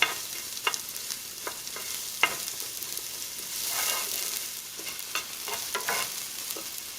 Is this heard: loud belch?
no